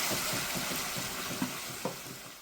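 Masala with tomato puree fries in a pan, a dense continuous sizzle up close with a couple of soft stirring knocks, no voices.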